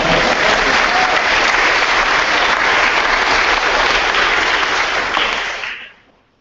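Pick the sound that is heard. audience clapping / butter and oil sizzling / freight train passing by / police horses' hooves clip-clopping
audience clapping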